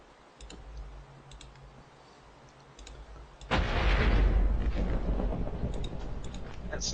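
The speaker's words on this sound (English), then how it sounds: "Did you hear that little lightning strike and thunder too?" A few faint clicks, then a sudden loud rumbling crack of thunder in the video game Minecraft that rolls on and slowly fades, with a voice faintly beneath.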